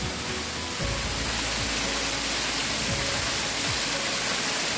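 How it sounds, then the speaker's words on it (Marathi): Water from an artificial waterfall at an agri resort in Maval rushes steadily as a soft, even broadband hiss, continuous and fairly distant, with no voices. "आणि हा धबधबा त्यांनी बनवला आहे बघा."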